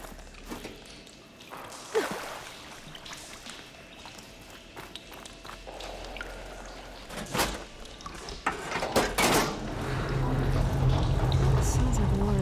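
Water in Horizon Forbidden West, rushing and pouring as it starts to flow through pipes, building into a steady loud gush toward the end, with footsteps, clanks and some talk along the way.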